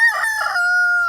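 A barred rock rooster crows once among hens, a loud, close, clear cock-a-doodle-doo with a rising start and long held final note.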